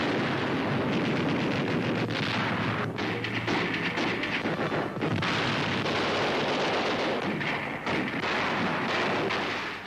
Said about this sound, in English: Grenade rifles in action.